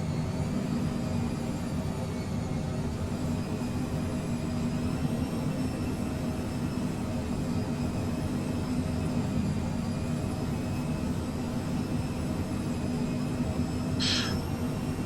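A Cessna Citation Mustang small jet on approach in Microsoft Flight Simulator 2020 gives a steady, loud engine drone with a constant low rumble and whine for about fifteen seconds, alone with no talking.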